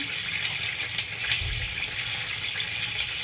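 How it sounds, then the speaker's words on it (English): Chili-infused pasta water being added to pasta cooking in a pan: a steady splashing pour and sizzle, continuous and close with no talk. "start to add some of the water"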